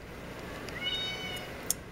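A house cat meows a couple of times, drawn-out and plaintive, close by over a soft background hiss, with a small click near the end.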